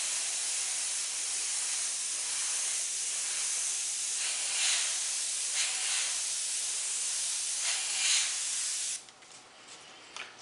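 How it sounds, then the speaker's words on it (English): A paint airbrush gives a steady close hiss for about nine seconds, with slight surges as the spray is worked, then stops, leaving faint brief rustles. "Now what I'm going to do is spray right here, leaving a sharp edge here,"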